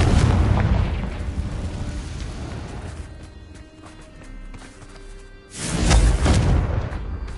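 Confringo fire spell explosions in the video game Hogwarts Legacy: a loud booming blast at the start that fades over a few seconds, then a second heavy burst near six seconds, rumbling and close.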